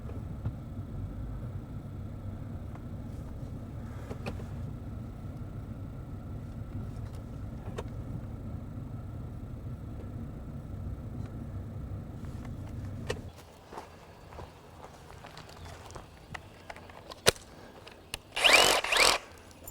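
A car rolls over a RIDGID 18V brushless reciprocating saw (R8647) on sand. A steady low engine rumble runs for most of the clip, then drops away, leaving a quieter stretch with a few sharp knocks and a brief crunching burst near the end.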